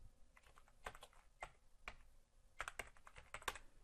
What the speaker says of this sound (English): And I'll just type in